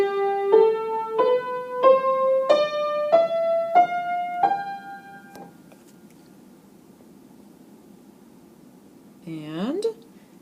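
A G Mixolydian scale played from G up to G, eight clear pitched notes rising in a steady even rhythm, each ringing briefly, followed by silence and a short sliding tone at the end.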